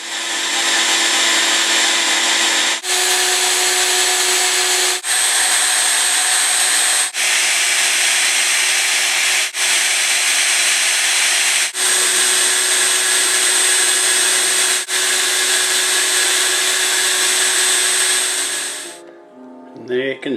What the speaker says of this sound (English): So I'm just going to go around, do all the corners now, and then go back to my orbital sander.